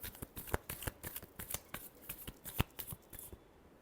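Tarot cards shuffled by hand in a run of crisp riffling snaps and flicks, close and fairly quiet, with no talk over them.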